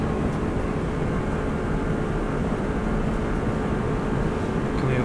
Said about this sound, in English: We're flat out now for the next probably 2 minutes.